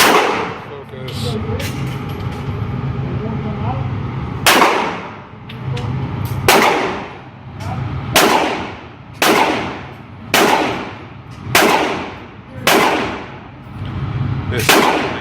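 Sharp, loud reports from a .22 Magnum firearm ring out at a shooting range, about eight shots fired at a steady rhythm of roughly one per second. Each crack trails off quickly over a low background rumble.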